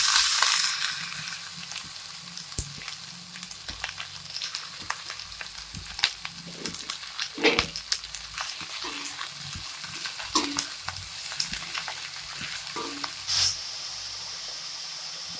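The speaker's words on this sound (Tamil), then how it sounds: "இப்போ நம்ம நறுக்கி வச்சிருக்க 1/2 கிலோ முட்டைக்கோஸ் இதில் சேர்த்துக்கலாம்." Half a kilo of chopped cabbage frying in a pan with curry leaves, a steady sizzle broken by repeated scraping and stirring strokes of a spoon, close up and without talk.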